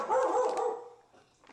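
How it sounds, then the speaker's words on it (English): A dog barks repeatedly at someone arriving at the front door, a cluster of close, loud barks followed by a quieter trailing yelp. "She's never heard Bruni bark"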